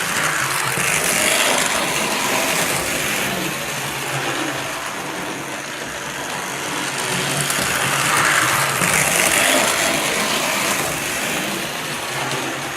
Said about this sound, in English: I've just sort of laid it out to see how this locomotive runs.